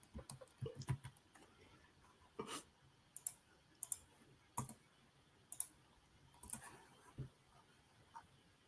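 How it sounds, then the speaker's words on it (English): Keyboard typing comes as scattered, quick clicks and taps in short uneven bursts with brief pauses between them, close by and fairly quiet, with no talking. "Typing up a storm over there."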